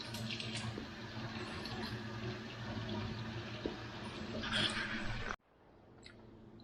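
Cold tap water runs steadily over boiled eggs in a pot, a continuous splashing rush with a few knocks before the flow is shut off, leaving a quieter room hiss.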